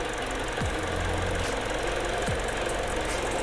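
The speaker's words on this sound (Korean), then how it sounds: "엔진 소리 일정하네요" A Mini Cooper Coupe 1.6 engine idles close by in a steady, even rumble with a constant low hum and no talking.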